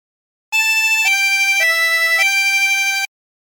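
A 24-hole tremolo harmonica plays a short phrase of Be Thou My Vision, four sustained, wavering reedy notes in steady succession, clear and close with no talk.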